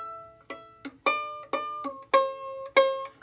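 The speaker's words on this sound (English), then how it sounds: "This is going to loosen the string and it'll sound like this." A violin string is loosened as its tuning peg is turned, giving six bowed or plucked notes in a steady rhythm, each starting sharply and fading, with the pitch sliding slightly lower from note to note. The notes are clear and close, with no talk.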